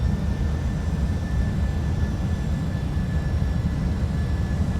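Steady, loud drone of Boeing 757 jet engines in the X-Plane 11 flight simulator, a continuous low rumble with a faint high whine, no talk.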